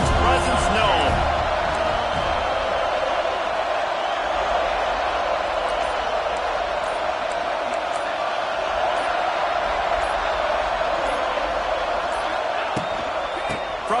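A stadium crowd in a college football video game sends up a continuous, loud roar that holds steady throughout. Commentary voices run over it.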